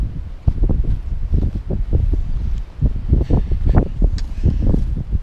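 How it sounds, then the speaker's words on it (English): Outdoors on a three-acre property, wind buffets the microphone with loud, gusty low rumbles and rustling that rise and fall in uneven bursts. "Probably can't hear me because the wind."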